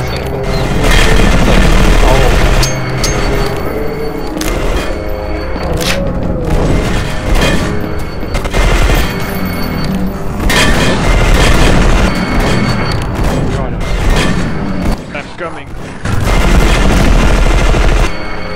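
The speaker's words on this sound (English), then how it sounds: "just got in here with my new crazy machine gun that weighs like absolutely nothing" Machine-gun fire in the sci-fi shooter E.Y.E. Divine Cybermancy during a co-op match, loud and nearly continuous with booming blasts throughout, while players talk over the battle.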